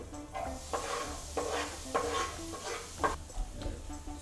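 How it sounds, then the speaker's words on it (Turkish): Onions fry in hot olive oil while a spoon stirs them, giving a soft sizzle under irregular scrapes and clinks against the pan, close and fairly quiet, with no voices. "Soğanlarımızı kıvamına gelene kadar yağın içinde kavuruyoruz."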